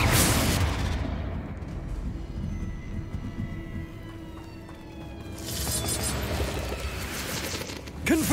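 A Confringo fire-blast spell in Hogwarts Legacy bursts loudly at the start and again near the end, with fizzling, whistling magic and a low rumble trailing between the blasts.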